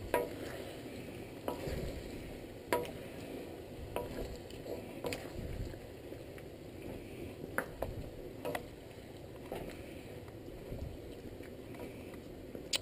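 A spoon stirs Filipino goat stew (kalderetang kambing) with pineapple chunks as it sizzles in a pan, with a steady frying crackle and scattered scraping knocks close by.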